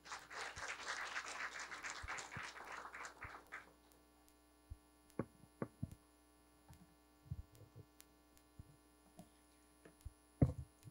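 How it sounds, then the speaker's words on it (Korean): Applause greets a speaker being introduced at a Gwangju school violence prevention education talk event, a dense burst of clapping for the first few seconds that quickly thins to scattered claps and handling noise over a steady hum. "박수로 맞아주시죠"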